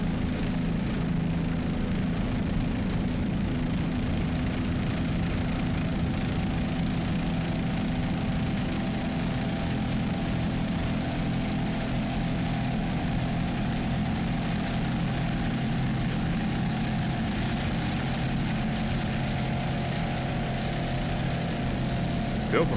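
A 26-foot Corsa offshore racing powerboat rounds the turn at a Daytona grand prix, its engines a loud, steady, droning roar that holds for the whole stretch.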